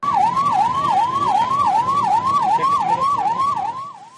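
A fire engine siren wails in steady, rapid up-and-down cycles on a city street near Belagavi's central bus stand, where a car caught fire from a short circuit, loud and close over traffic rumble, fading slightly at the end.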